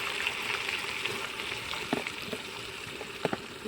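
Spices for a vaghar tempering sizzle and crackle steadily in hot oil during an outdoor gathering of friends, with occasional sharper pops and a dense frying hiss throughout.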